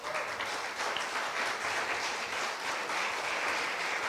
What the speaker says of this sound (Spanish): Que nos des un aplauso al Señor